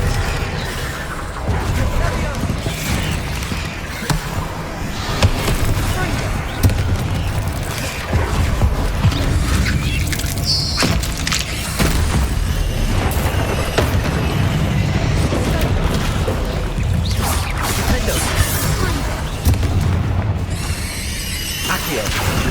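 Spell blasts and explosions in the video game Hogwarts Legacy, loud repeated booms and magical bursts in quick succession while a player shouts spell names throughout.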